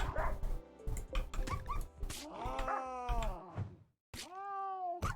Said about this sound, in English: the cheetah is right now hunting my dog for food